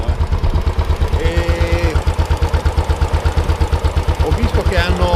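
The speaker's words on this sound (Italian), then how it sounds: "Il motore è silenziosissimo, parte sempre al primo colpo." A Royal Enfield Bullet Classic 500 E4 ABS motorcycle idles close by with a steady, thumping single-cylinder beat while people talk over it.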